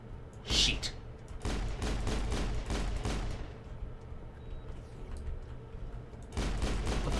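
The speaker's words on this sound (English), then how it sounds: "Fucking turret? Are you kidding me?" Turret fire in the video game Mass Effect comes as repeated bursts of fast, punchy shots, with a sharp blast near the start and another barrage at the end, fairly loud over a low rumble.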